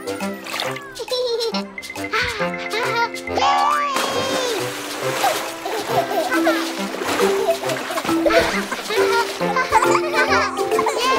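Water splashing at a water park during playful outdoor fun, with continuous splashes and splatters mixed under cheerful music and children's voices throughout.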